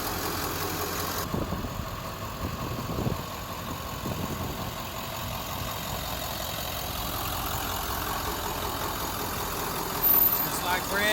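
A 1996 Ford F-350 conversion truck's engine turns over and settles into a steady idle, a close, even rumble that carries through to the end.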